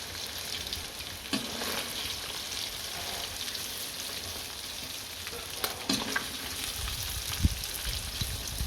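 Chicken pieces for chicken kothu sizzle in hot oil with a steady, dense crackle and occasional sharper pops, close and loud throughout with no talking.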